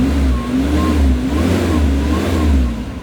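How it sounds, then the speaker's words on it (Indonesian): A 1997 Suzuki Espass 1.3 idles steadily close to the microphone, a smooth, even low rumble with a slight rhythmic pulse and no revving. "Ini mesinnya kita dengar"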